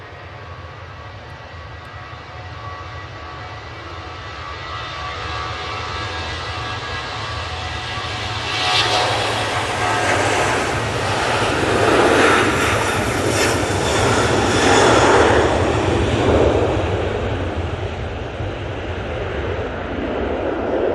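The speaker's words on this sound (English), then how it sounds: "That's another aircraft off to the lovely Lovely Ski Athos" A jet airliner departs Manchester Airport, its engine roar building from a steady background rumble to a loud, broad rushing peak midway, then holding strong as the aircraft climbs away.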